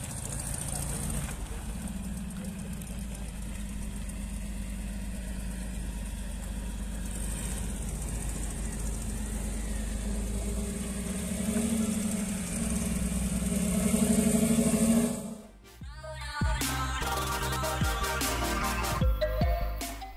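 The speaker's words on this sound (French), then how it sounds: "Là, la Cox qui s'en va, suivie de la Porsche." A Volkswagen Beetle pulls away with a steady mid-pitched engine drone that swells, then a Porsche follows with a rising, rougher engine note, both moving outdoors at moderate distance.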